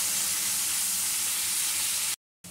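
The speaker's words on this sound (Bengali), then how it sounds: "এবারে আমি এর মধ্যে মশলার বাটি ধোয়া জল দিয়ে দিচ্ছি কিছুটা।" Steady, dense sizzling of Bengali-style spice paste frying in a pan after water is added, for a fish and brinjal jhal, close and continuous until it cuts out abruptly near the end.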